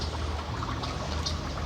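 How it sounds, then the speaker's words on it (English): Water pours steadily from an inlet into an aquaponics flood-and-drain grow bed filled with rocks, carrying water from the fish tank. The close, continuous trickle keeps an even level throughout, with no talk. "when the bed fills from the inlet, it brings the nutrient rich water from the fish tank"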